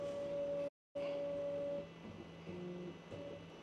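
A Thunder Nova Plus 60-watt RF laser engraver with a PiBurn GRIP2 rotary holding a cup runs its autofocus. A steady electronic whine cuts out briefly, then returns, followed by soft stepping motor tones.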